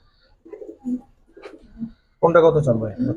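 Soft coos from Giribaz tumbler pigeons repeat in short phrases, followed by a louder burst of cooing and fluttering close by.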